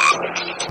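A frog in the video game Zombie Age 3 gives a single short croak, close and fairly loud.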